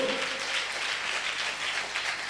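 Church congregation clapping during a worship service, a steady dense wash of many hands applauding together at moderate level, continuous with no gaps.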